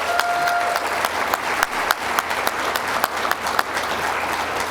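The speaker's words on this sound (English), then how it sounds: "A big round of applause for our sponsors." Sustained audience applause for event sponsors at a university achievement celebration, a dense steady crowd clapping that holds at an even level throughout, with no voices heard.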